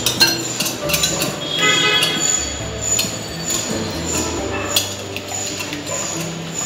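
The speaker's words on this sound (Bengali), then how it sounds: "এই তিনটা ডিম আমি এখন একটা হুইস্কের সাহায্যে একটু ভালো করে মিশিয়ে নিব।" A whisk beats three eggs in a bowl, giving quick, busy metallic clinks and taps against the bowl that continue steadily and fairly close throughout.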